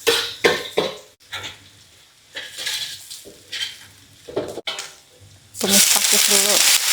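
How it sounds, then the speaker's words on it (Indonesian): Ferns (pakis) stir-fried in a home kitchen pan with shrimp paste, utensils clinking and scraping against the pan in short bursts, ending in a loud, steady sizzle as the greens hit the hot oil. "Tumis pakis dulu"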